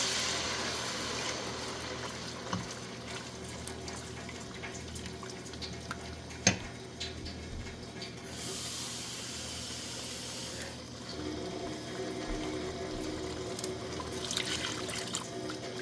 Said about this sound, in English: the next thing I'm gonna add is just a little bit of water